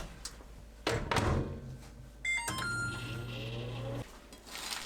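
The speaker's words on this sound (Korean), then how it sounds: "전자레인지 10초 돌려주세요." A microwave oven door thunks shut and a latch clicks, then a steady electric hum with a buzzing drone runs for about a second and a half, heating a plate of dried anchovies, before cutting off.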